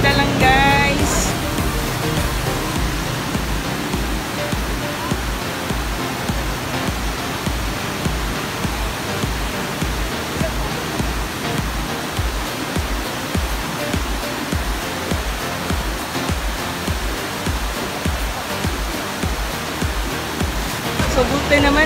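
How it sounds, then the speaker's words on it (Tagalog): Aliwagwag Falls, a waterfall heard as a loud, constant broadband roar of rushing, crashing water that continues steadily throughout. "So we're here now at Aliwagwag Falls."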